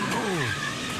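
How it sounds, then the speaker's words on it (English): NASCAR race cars crashing at the back of the field during the 2020 Daytona 500, heard from onboard Jimmy Johnson's Chevy: a loud, steady engine roar with a brief falling tire squeal as cars make heavy contact. "Crash in the back of the field."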